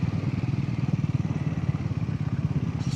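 A Royal Enfield Hunt 350 motorcycle is ridden in Ladakh, and its single-cylinder engine thumps in a steady, close, low rhythm throughout, with rushing wind noise layered over it.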